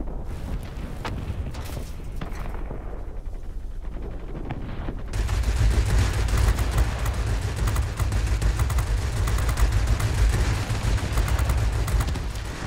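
Rapid, sustained bursts of 20mm cannon fire from a Me 410 heavy fighter during a flight-game ground attack, loud and dense, opening with sparser shots before continuous heavy firing takes over for most of the stretch.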